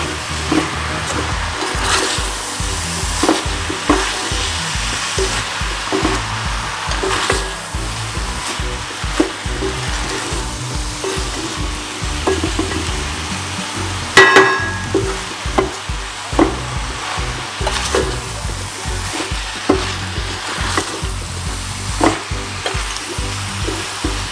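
An eggplant dish frying in a pan gives a continuous loud sizzle with frequent stirring scrapes and occasional sharper knocks of a utensil, close and steady throughout.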